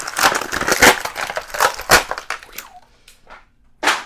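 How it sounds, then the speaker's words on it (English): The grip hands of a WWE Charlotte Flair Elite action figure are popped out, producing a string of close plastic cracks, snaps and rubbing clicks. A final sharp snap follows a short pause. "so let's pop out her C-grips"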